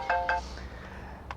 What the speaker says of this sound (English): Hang on, sorry, phone's ringing.